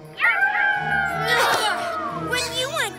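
A cartoon wolf howl from a Wolfy Howl simulator rises and bends in a long, wavering tone, followed by a second shorter howl, loud and close, mixed in with animated voices.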